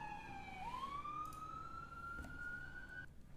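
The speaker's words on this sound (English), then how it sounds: "Maybe if we run the sirens, it'll go. We'll run the sirens here." A police siren wails steadily, one continuous rising tone that sweeps up and then holds high, loud and clear over a constant background rumble before cutting off near the end.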